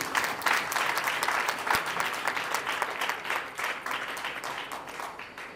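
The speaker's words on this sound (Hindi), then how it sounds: "जोर से ताली बजाइए।" Wedding guests at a Christian ceremony in India clapping loudly together, a sustained burst of rapid, dense applause that stays strong and then gradually eases off, heard close with no talk over it.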